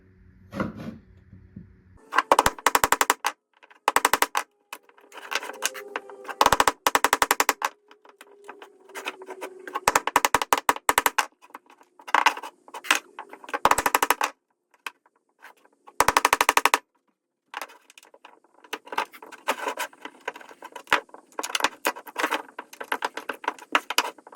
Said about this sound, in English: Now we are going to use a chisel to remove all the material that is inside.